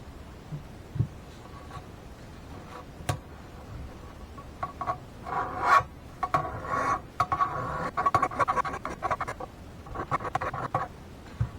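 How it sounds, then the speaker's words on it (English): A hand file rasps along a cracked machete blade clamped in a vise, a run of uneven scraping strokes that builds in the middle of the clip, close and fairly quiet with small metallic clicks. "I'm gonna work on this on these two spots with a file."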